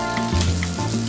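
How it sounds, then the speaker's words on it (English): Eggplant frying in hot oil in a kitchen gives a steady, close sizzle that swells and eases through the short stretch, with no talk over it. "Grabe, nag-sizzle talaga."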